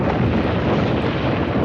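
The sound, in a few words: stormy wind over sea in film soundtrack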